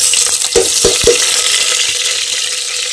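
Onions frying in hot ghee inside a pressure cooker, a steady close sizzle with a few soft knocks of stirring near the start, no voices.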